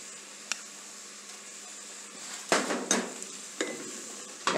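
Sautéed mushrooms sizzle softly in a pan as flour is stirred in, a low steady hiss broken by a few loud scraping stir strokes close up, with no talking.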